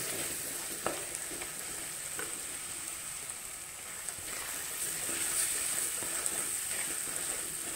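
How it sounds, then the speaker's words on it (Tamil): Spices with turmeric powder being sautéed in a pan over low flame give a steady, fairly faint sizzle with occasional soft stirring clicks, no voices. "தீயை சிம்மில் வச்சுட்டு அப்படி ஒரு வதக்கு வதக்கி விடுங்க"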